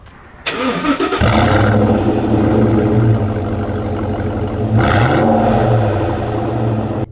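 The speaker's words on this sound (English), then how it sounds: "So I was revving the truck. You could hear the course exhaust sounds pretty good" A Ford Raptor truck with 100,000 miles fires up after a brief pause, then holds a loud, steady exhaust rumble with a second rise in revs partway through, heard close and with no talking.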